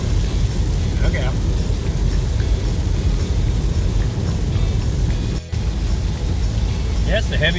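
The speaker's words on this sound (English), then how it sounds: "That's the heaviest rain of the day right there." Steady, dense rain roars continuously on a lakes loop trail in a national forest, with a low rumble of wind or traffic beneath and a brief break near the end.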